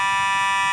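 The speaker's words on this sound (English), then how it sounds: "a fire alarm here at our GPP studios" A fire alarm blares in a TV studio, a loud, steady electronic tone held unbroken and alone.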